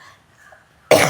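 A single loud, harsh cough bursts out suddenly after near silence from someone who has been ill for several days.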